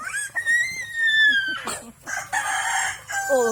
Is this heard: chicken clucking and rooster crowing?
yes